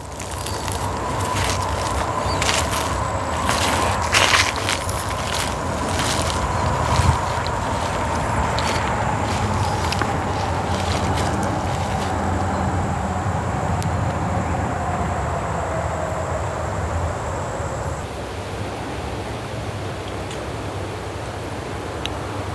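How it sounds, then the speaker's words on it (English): Wind moves through the trees at Cowpens National Battlefield in South Carolina as a steady, broad rushing that lasts the whole stretch, with a faint low hum beneath it and no talking. "You can just listen to the silence and the wind blowing through the trees"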